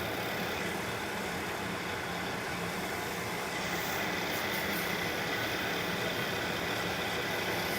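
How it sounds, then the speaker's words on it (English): A wood lathe spins at about 1700 RPM while fine steel wool is pressed against a turning bowl, giving a steady, loud whirring drone with a continuous hiss that holds evenly throughout, with no talking. "Now the lathe is running at 1700 RPMs, in that range."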